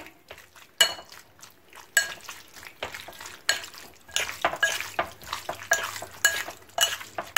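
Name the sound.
calamari and seafood sautéing in a frying pan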